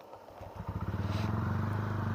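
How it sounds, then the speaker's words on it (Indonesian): A TVS Ronin motorcycle engine catches after a short start and settles into a close, steady, thumping idle with a fast, even pulse. "Suara mesinnya coy, padat banget."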